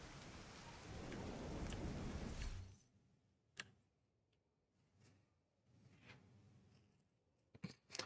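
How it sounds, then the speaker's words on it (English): Heavy rain and a rumbling thunderstorm in a video game, loud and dense for the first few seconds, then fading to quieter patter with sharp crackles and a few sudden bursts near the end. "it's fucking raining in the game and just being a storm"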